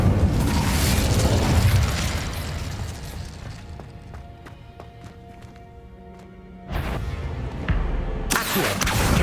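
Fire spell cast in the video game Hogwarts Legacy, a loud roaring whoosh of flame that fades out, followed by a couple of bright magical chimes and then another strong fiery burst.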